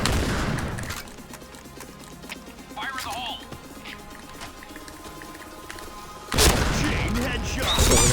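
M1014 shotgun fire in PUBG, with a couple of loud sharp blasts near the start and end and quieter game sounds between, under excited talking.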